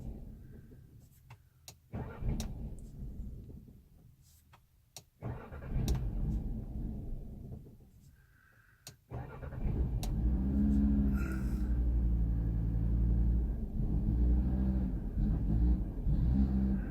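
A car's engine starts up and idles roughly on its own, surging and dropping, then catching again into a loud, steady rumbling rev, with a few sharp clicks in between.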